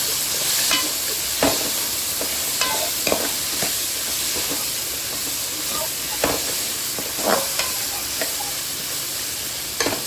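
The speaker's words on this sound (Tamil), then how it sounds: "நல்லா வதக்கிக்கலாம்" Peas, carrots and beans sauté in a hot pan with a loud, steady sizzle and hiss, broken by occasional sharp spatula scrapes and taps.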